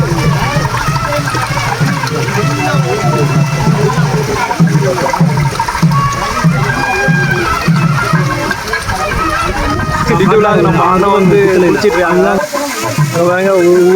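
Water splashing and pouring at the Pon Oothu temple waterfall, where people bathe in a light flow, makes a steady wash that runs under continuous voices and chatter.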